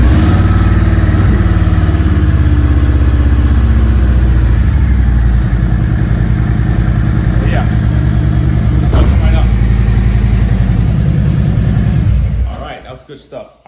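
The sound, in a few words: 2022 Harley-Davidson Road Glide motorcycle engine starting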